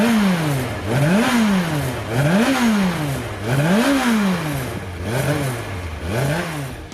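A Yamaha FJ motorcycle with a 16-valve engine, constant-vacuum carburettors and a five-speed gearbox revs repeatedly, climbing and dropping in a regular rhythm, loud and close with no talk.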